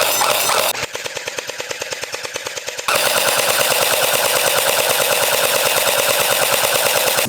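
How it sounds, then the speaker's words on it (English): Rapid bursts of a Humorex toy blaster fitted with an M4 adapter, firing in a fast mechanical rattle: a short burst followed by a longer, louder sustained volley, close and with no talk. "we're gonna get shooting on this. This is the Humorex blaster with our M4 adapter."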